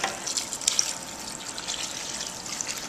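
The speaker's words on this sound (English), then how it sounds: "want to add about 1 inch of water to the bottom of the pan." Water pours steadily into a pan holding a seared 10-bone Seaboard prime pork loin with white wine, a soft continuous splashing trickle, close by and alone.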